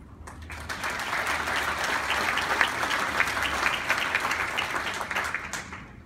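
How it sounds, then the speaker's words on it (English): Sustained applause from a crowd, steady and fairly loud throughout, with no one speaking over it. "ladies and gentlemen, please welcome Stacy Graves."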